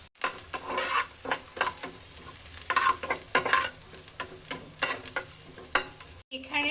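Potatoes frying in hot oil while being cooked for a Bengali fish head ghonto with flattened rice, giving a steady close sizzle broken by repeated stirring scrapes of a spatula in the pan, with no talking.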